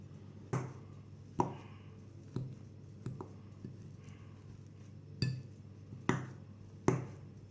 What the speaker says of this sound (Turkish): haşlanmış patateslerimizi güzelce ezeceğiz. Şöyle. Çatalla biraz küçülteceğim.